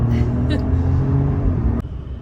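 A Jeep Grand Wagoneer L engine drones low and steady as it accelerates while merging onto a highway, heard from inside the cabin with a person talking over it, then cuts off abruptly near the end.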